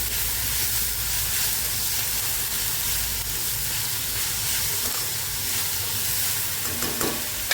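Salted moringa leaves fry in a hot pan with a steady, even sizzle and hiss that holds throughout, with faint stirring scrapes near the end.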